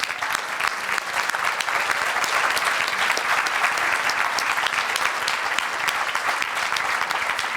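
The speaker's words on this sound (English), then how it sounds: "maybe you could stand up just so we can applaud you in your work" Forum attendees applaud community commissioners with brisk, continuous clapping from many hands, dense and even, lasting the full stretch without speech.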